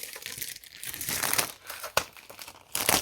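Scraps of vellum paper are handled close up, giving soft, irregular crinkling and rustling with a few sharper crackles, quiet and with no talking.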